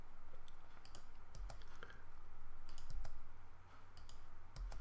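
Someone types code on a computer keyboard, with quick, irregular clusters of close, crisp key clicks over a low steady room hum.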